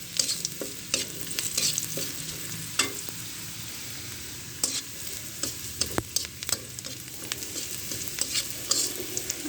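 Chopped onion and garlic fry in a little oil, a steady close sizzle broken by frequent scraping stirs of a spoon against the pan.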